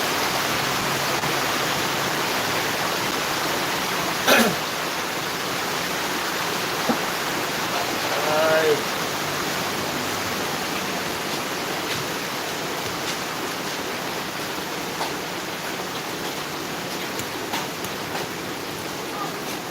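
Steady, dense hiss of rainfall fills the whole stretch, constant and even, with a couple of brief louder knocks partway through.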